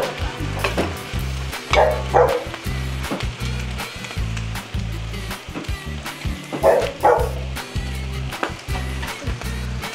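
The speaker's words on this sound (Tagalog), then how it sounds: "At sasangkotsahan na rin daw ng sibuyas para ho bumango na." Garlic and onion sauté in hot oil in a pan, giving a steady crackling sizzle broken by repeated scraping stirs, with a few faint background noises.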